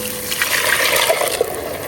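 Coconut milk pouring into a cooking pot, a short continuous liquid splash and trickle, close and moderately loud, with no talk.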